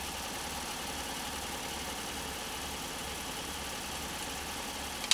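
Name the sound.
sewing machine running at full speed without load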